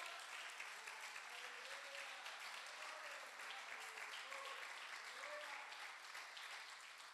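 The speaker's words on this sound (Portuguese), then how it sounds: "Você pode aplaudir ao Senhor?" A church congregation at a family conference session applauds steadily, a dense, even clapping that fills the room for the whole stretch with little rise or fall, and a faint voice may sit beneath it.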